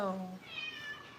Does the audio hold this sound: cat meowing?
yes